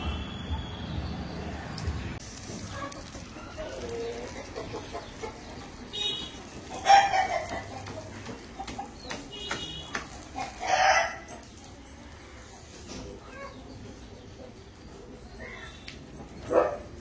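Free-range country hens clucking and calling inside a village poultry shed, scattered intermittent calls with a couple of louder bursts over a murmuring background, a dog barking briefly at times.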